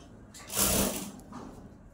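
A sewing machine stitches a nauvari saree in one brief whirring run lasting about half a second, close and moderately loud, against a low room hum.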